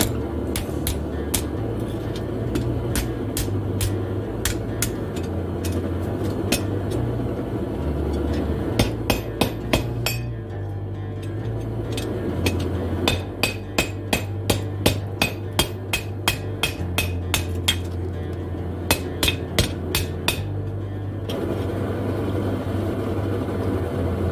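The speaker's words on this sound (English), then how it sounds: "Kind of clean this up with my hammer here." A hammer strikes a forged fire poker to clean it up, sharp metallic blows coming in irregular bursts of quick, close hits with short pauses, over a steady low rumble like a forge blower.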